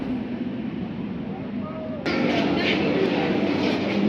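Train noise at New Garia station, a steady broadband rumble that grows louder and brighter halfway through as the train moves, with faint squeals above it and no clear talk.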